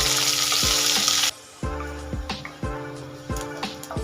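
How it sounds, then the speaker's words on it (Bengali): Chopped onions fry with potatoes in a pan, sizzling loudly at first and then more softly, with a few knocks and scrapes from stirring. "পেঁয়াজগুলো আলুর সাথে ভাজা ভাজা করে নেব"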